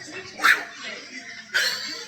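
A man mimics a dog with two short, sharp bark-like yelps about a second apart, each followed by a brief whine, with faint background noise between them.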